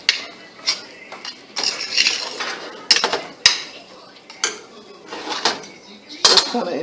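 Metal utensil scraping and clinking inside a cooking pot while soup ingredients are mixed, with irregular clanks and scrapes at close range and brief speech between them.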